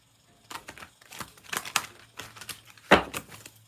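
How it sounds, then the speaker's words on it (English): Large, stiff tarot cards riffle and slap together in quick bursts of crisp, papery clicks, close by, ending with one louder snap. "these cards are so big, they're kind of hard to shuffle correctly."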